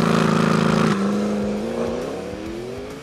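A 2022 McLaren GT sports car with a 620 hp engine accelerates hard, its loud, close engine note surging and climbing steadily in pitch after a brief shift, with no talk over it.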